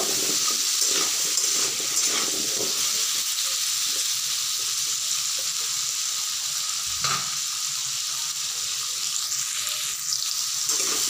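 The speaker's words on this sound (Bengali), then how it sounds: "আলুগুলোকে আমি লাল করে ভেজে নিব।" Small potatoes fry in a pan with a steady, bright sizzle that holds throughout, close and fairly loud, with a few faint stirring knocks and no voices.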